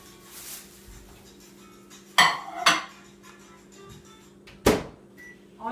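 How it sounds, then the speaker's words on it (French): A microwave oven heats corn on the cob with a steady low hum, while a few sharp clatters of dishes and cutlery break in nearby. "ils me disent mettre au micro-ondes pendant 1 minute, fait que je vais le faire"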